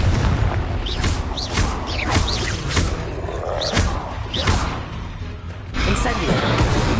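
Confringo explosion spells in a Harry Potter video game burst repeatedly in quick, loud booms and crashes amid continuous rumbling combat noise, with a voice shouting over parts of the action.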